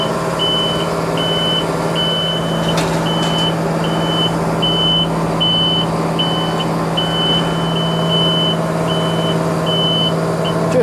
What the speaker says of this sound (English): I wish I could turn that beeping down.